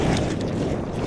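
Strong wind buffets the microphone outdoors near water during a fishing outing, a loud, continuous low rumbling roar that fills the whole moment with no other sounds distinguishable.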